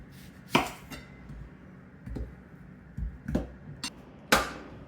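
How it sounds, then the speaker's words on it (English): Knife halving onions on a cutting board, several sharp woody thunks at irregular intervals, close and fairly loud against a quiet background. "We'll first do our onion. Cut them all in half."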